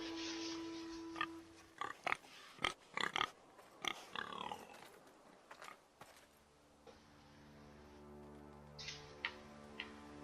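A pig oinks a few times in the Game of Thrones video game, sharp snorting grunts amid clicks and quiet ambient sounds, fairly soft, followed by a sustained low droning tone.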